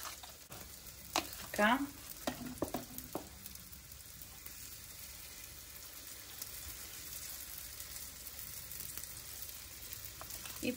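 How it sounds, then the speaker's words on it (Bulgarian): Korean-style corn dogs frying in hot oil, a steady soft sizzle and crackle running throughout, with a few bumps and clinks of placement early on and a brief spoken word over it. "направо ги слагаме да се пържат"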